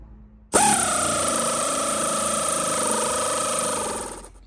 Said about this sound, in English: Get the old ratchet out.